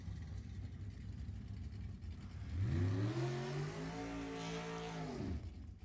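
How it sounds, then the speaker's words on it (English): A 2004 Mullis Chassis dragster launches on the drag strip, its engine roaring up through rising harmonics for a few seconds before cutting off, loud and fairly close over steady background rumble. "2004 Mullis Chassis Dragster out of Citrus Heights, California"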